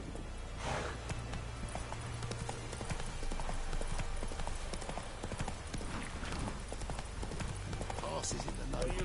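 Rhythmic clip-clop of a horse's hooves in The Witcher 3, a steady galloping beat carrying through the whole stretch, with occasional snorts and a voice talking over it.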